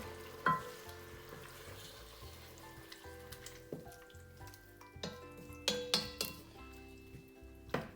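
A tomato mixture with salt and pepper sizzles in a pot while a spoon stirs it, with clinks and knocks against the metal scattered over the steady frying hiss, close and moderately loud.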